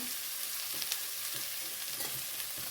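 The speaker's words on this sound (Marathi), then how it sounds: "मिक्स करूया मीठ घालूया चवीनुसार" A colourful mixed-vegetable dish with no onion or garlic is stirred in a hot pan, giving a dense, continuous sizzle with soft scraping strokes from the spoon throughout.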